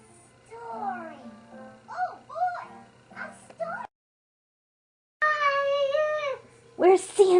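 A voice imitates a cat, giving several drawn-out, wavering meow sounds in short bursts, separated by a brief silence, near and fairly loud.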